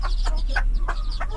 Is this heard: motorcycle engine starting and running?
no